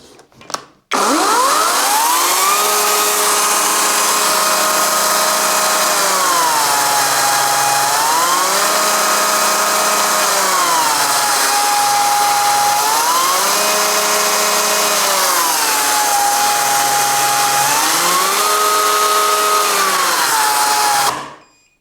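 A Parkside Performance 40V cordless chainsaw (PPKSA 40 Li B2) runs close and loud without pause, its electric motor whine stepping up and down between two speed settings several times before cutting off abruptly.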